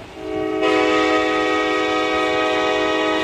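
A BBD LRC high-speed train in a Roblox sandbox game sounds a sustained, loud horn chord that begins after a brief lead-in, with rail rumble underneath throughout.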